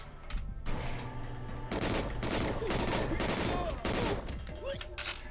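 Heavy automatic gunfire from big guns in GoldenEye rattles in dense, rapid bursts that fill nearly the whole stretch, with brief pauses between volleys and game sounds underneath.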